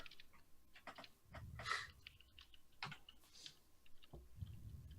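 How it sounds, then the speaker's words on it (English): Fingers hammer furiously on a computer keyboard, a close, rapid patter of uneven clicks and taps with brief bursts and short pauses and no voices. "It looks like Ode is typing furiously"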